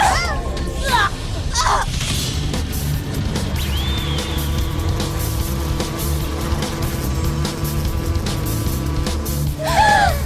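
A destructive cartoon cicada monster drones with a steady, insect-like buzz lasting throughout, loud and continuous with fluctuating overtones, while voices and chirpy squeaks briefly pop in near the start and end.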